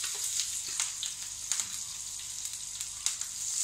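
Chopped chillies and curry leaves sizzle in hot oil for suji upma, a bright, steady frying hiss broken by a few sharp crackles and pops up close.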